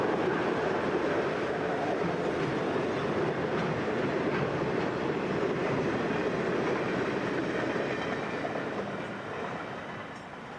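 The HOEST, a Southern Pacific northbound hot freight train, rumbles past with a continuous roar of wheels and railcars and light clickety-clack. The sound fades gently toward the end, with no voices.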